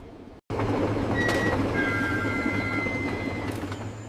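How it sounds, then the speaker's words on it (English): A train rumbles steadily after a brief gap at the start, with thin high wheel squeals and rail clatter as it slows. No voices are heard. "Then, on the third day, the train slowed unexpectedly."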